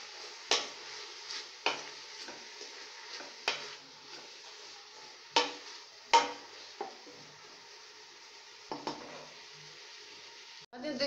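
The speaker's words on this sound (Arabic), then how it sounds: "نشحروا شويه هاد البصيله" Onion being sautéed in a pan and stirred with a utensil, giving a soft, faint sizzle with several sharp scraping and clinking strokes at irregular intervals.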